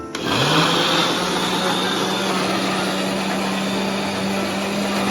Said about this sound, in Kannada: ಆಮೇಲೆ ಹೀಗೆ ಮಿಕ್ಸಿ ಮಾಡೋದು.